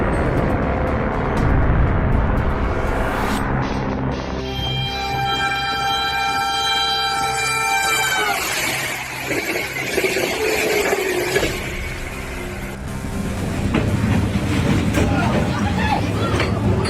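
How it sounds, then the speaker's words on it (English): A train rolls past over railway tracks in Turkey, a loud steady rumble with long sustained horn-like tones throughout, mixed with a voice speaking over the noise. "a woman wearing headphones and using her phone nearly got hit by a train while crossing the tracks"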